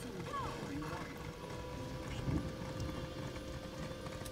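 Horse hooves clip-clop steadily in a fantasy role-playing video game, a rhythmic clatter of hoofbeats under a constant low background hum, with faint speech mixed in.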